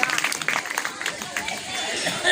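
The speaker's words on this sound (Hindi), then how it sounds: "इनके स्वागत में सभी लोग जोरदार तालियां बजाएंगे" Audience clapping in welcome for the performer playing Gangadhar Rao at a village stage show in Simariya, Bina, a dense, steady crackle of hands with crowd murmur mixed in, swelling slightly toward the end.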